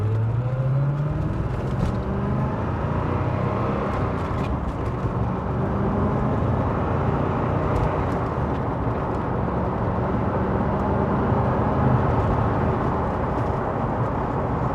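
A 1990 Corvette ZR1 accelerates up to speed from inside the cabin, a steady loud engine drone with whirring road noise and a rising pitch early on.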